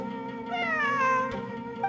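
A cat meows in the video game Genshin Impact, one drawn-out falling meow over a steady music bed, fairly close and clear, with no talking.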